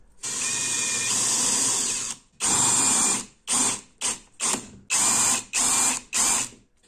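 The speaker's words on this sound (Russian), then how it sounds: "Сейчас сделаем в четырех углах отверстия," A power drill boring holes into the corners of a wooden blank, running in one long burst followed by a series of shorter whirring bursts with brief pauses, loud and close.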